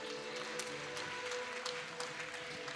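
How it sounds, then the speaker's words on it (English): Faint applause from an esports crowd at a fighting-game tournament final, a soft steady patter of clapping with a few sharper claps, distant and low in level. "Tonnerre d'applaudissements pour Video Games Yo"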